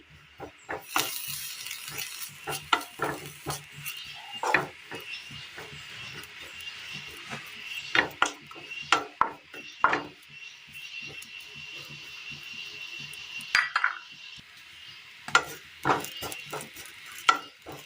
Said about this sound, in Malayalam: അടുപ്പത്ത് ഒരു പാൻ വെച്ച് കൊടുത്തിട്ടുണ്ട്. ഇതിലേക്ക് നമുക്ക് തേങ്ങ തിരുമ്മിയെടുത്തത് ഇട്ട് കൊടുക്കാം.